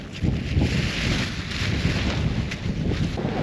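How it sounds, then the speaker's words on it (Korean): Strong wind buffets a microphone at a campsite in Fukuoka while a tent is being pitched, a loud continuous roar and rumble with gusty surges throughout, no talking. "바람이 너무 많이 불어"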